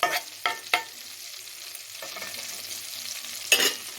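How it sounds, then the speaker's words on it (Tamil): Cumin seeds and cinnamon sizzle softly in a hot pan while a spoon scrapes and stirs them a few times, sharp close strokes over a quiet background hiss. "இது ஒரு நிமிஷம் நல்லா வதங்கினதுக்கப்புறம் அந்த சீரகம் வந்து கொஞ்சம் பொரியிட்டோம்"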